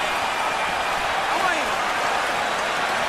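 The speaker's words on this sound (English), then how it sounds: "Crowd is on fire after 4 fabulous rounds" A boxing arena crowd roars between rounds of a Pacquiao versus Cotto welterweight title fight, a loud, steady wash of cheering noise filling the whole stretch with indistinct voices in it.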